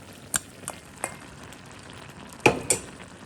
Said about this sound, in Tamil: இது வந்து தாளின வெங்காயமும் கருவேப்பிலையும் பெருஞ்சீரம் போட்டு தாளிச்சிருக்கு